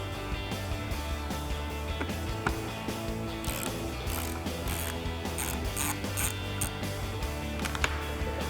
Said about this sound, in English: we're going to grab our T15 Torx bit on an extension with our ratchet, remove the single T15 Torx screw